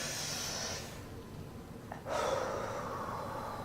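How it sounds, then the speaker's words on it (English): Deep diaphragmatic breathing: a long, soft breath runs for about a second, then a quieter pause and a sharper intake, followed by a steady exhale, all close and without talk. "you need to be doing diaphragmatic breathing"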